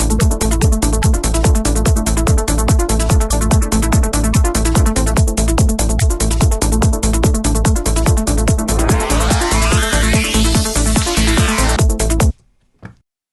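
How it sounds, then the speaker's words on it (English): Loud AI-generated psytrance track, a driving four-on-the-floor kick with a rolling bass pulsing between beats and a rising filtered sweep near the end, cutting off abruptly before a brief final hit. "I wanted to make, in this case, a Psytrance track. And I started with a Psytrance beat. Then I added a Psytrance bass."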